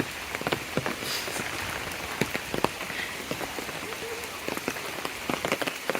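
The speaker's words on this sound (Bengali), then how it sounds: "হঠাৎ করেই বৃষ্টি শুরু হয়ে গেছে।" Rain falls steadily and suddenly onto surfaces outdoors in a rural setting, a dense even hiss broken by scattered sharp drip and splash ticks throughout.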